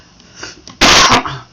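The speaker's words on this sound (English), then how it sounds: "sorry about the coughing as well" A single sharp, loud cough bursts out from someone recovering from a bad cold, preceded by a few quiet breaths and small movements.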